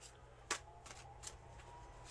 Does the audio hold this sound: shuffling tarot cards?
yes